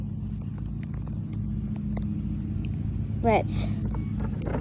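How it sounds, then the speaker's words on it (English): A car engine rumbles steadily at close range while the driver spins it in donuts, the low drone continuous throughout with a brief squealing rise near the end, and a voice speaks over it. "I'm doing donuts here"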